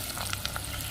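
Onion fries in oil for a bitter gourd curry, a close steady sizzle with a few sharp crackles and a brief stir, no voices heard.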